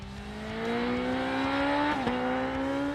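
A Kawasaki ZX10R Ninja sport bike engine revs steadily upward in a smooth, high rising whine, briefly dipping as it shifts before climbing again, heard alone without any voices.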